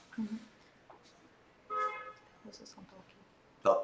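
A car horn honks right beside the spot, one sustained blast in the middle with a few shorter toots around it, mixed with people talking nearby.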